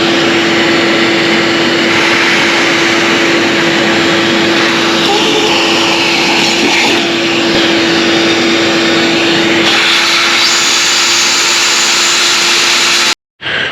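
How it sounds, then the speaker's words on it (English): Shop vacuum cleaner running steadily to clear debris from a freshly drilled 1/8-inch hole, a loud continuous whine and roar with a steady tone, shutting off abruptly near the end. "vacuum it out."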